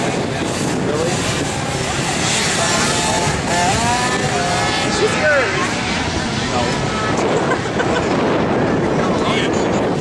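A racing motorcycle, the 101 machine, makes its way around the track, its engine a continuous, rushing roar under a commentator's voice.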